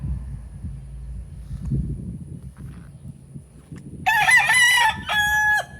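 An 11-month-old grey blues cross gamefowl rooster crows twice in close succession, loud and near, after a stretch of quiet low rumbling background.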